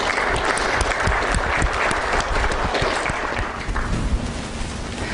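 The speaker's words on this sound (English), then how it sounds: "So I think they deserve a round of applause." A convention audience breaks into a sustained round of applause, dense, steady clapping from many hands filling the room for several seconds.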